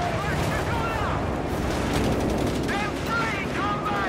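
A constant din of combat in the World War II strategy game Company of Heroes 3, with a German machine gun firing among rattling shots and booms, loud and continuous with shouted voices over it.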